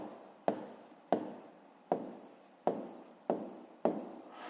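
A pen writing in a notebook: six distinct scratchy strokes, each starting with a crisp attack and fading, evenly spaced, close and alone without talk.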